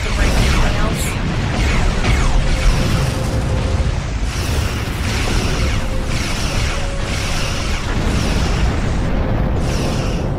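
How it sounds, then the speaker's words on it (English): A ship blows up in a space combat game, a sustained rumbling blast with crackling bursts and repeated booming pulses over a dense, loud background roar. "Ship explosions cause damage."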